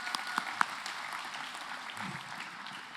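Audience applause at an awards ceremony: a steady wash of clapping from a room full of people, fairly faint and continuous across the whole stretch, with a few sharper individual claps standing out near the start.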